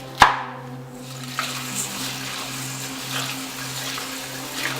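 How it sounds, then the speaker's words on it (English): Tap water runs steadily into a sink as spinach is washed under it, a soft continuous splashing with a sharp knock at the start and faint rustles over a low hum. "Slice the root of spinach and wash them with a running water."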